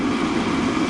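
A waste oil burner idles in a foundry furnace, giving a steady, close roaring rush with a low rumbling core, unbroken and even in level throughout with no voices.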